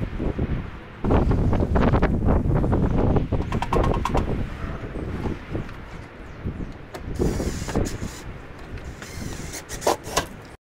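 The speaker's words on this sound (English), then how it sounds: "It was a real windy day here, obviously, as you can hear" Strong wind on a windy day in Clark, New Jersey buffets the microphone in loud, uneven gusts and roaring bursts, easing and returning, with no talk over it.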